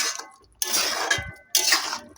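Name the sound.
stirring chopped coriander into cooked beans in a pan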